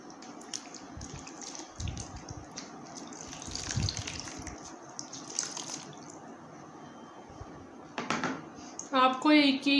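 Water runs from a tap as a face is rinsed during an aloe vera and rice flour scrub routine, a steady close splashing and gushing that continues throughout, growing slightly louder near the end.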